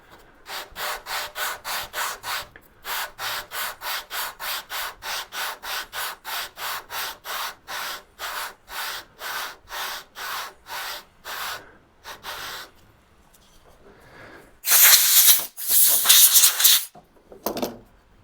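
Rhythmic back-and-forth rubbing of a small hand plane's wooden surface being sanded flat, steady even strokes close up, then a pause and a few harsher, louder scrubbing passes near the end.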